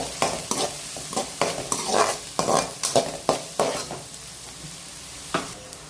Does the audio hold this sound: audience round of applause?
no